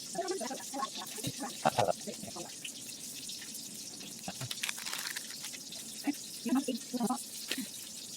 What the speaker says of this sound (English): I'll go ahead and get you a quarter cup of water